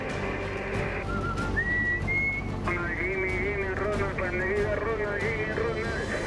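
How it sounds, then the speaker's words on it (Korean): A fishing boat captain whistles long rising and sliding signal notes at sea to call other boats. The notes sound loud and close over a constant engine and water rumble. "Yo los silbo y ellos saben que con ese silbo los llamo."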